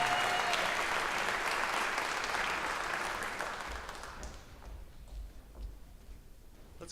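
Audience applause at a county jazz band concert, a dense steady clapping of the crowd that fades and thins over the second half, leaving scattered claps.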